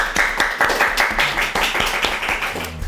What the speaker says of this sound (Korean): 벽보팀들한테 박수 한번 주십시오.